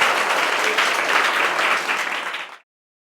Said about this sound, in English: Okay, so have a clap for team B.